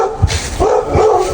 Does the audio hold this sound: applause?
no